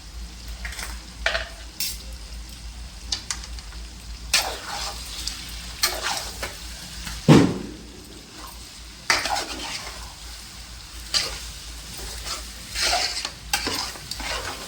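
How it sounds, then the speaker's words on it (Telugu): Elephant yam chunks with turmeric and rock salt being stirred in a pot, with scraping spoon strokes and clinks repeating irregularly over a faint steady background hiss, close and moderately loud. "ఇప్పుడు దీన్ని మొత్తం కలిసేటట్టుగా కలుపుతున్నామండి"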